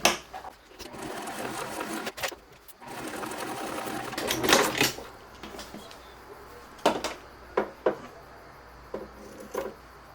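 A sewing machine stitches down the sides of a folded fabric slip pocket for a purse, running in short bursts separated by pauses, with fabric handling and clunks between runs.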